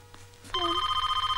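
Close, loud telephone bell starts abruptly and rings in a fast continuous trill, preceded by a short murmur of voices in a Hindi film household scene.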